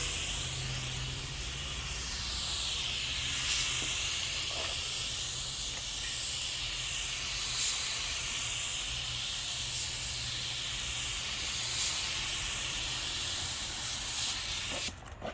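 A spray gun applies coats of paint to a drift car, giving a steady, loud, close hiss that swells and eases in long passes for the whole stretch and cuts off briefly at the end.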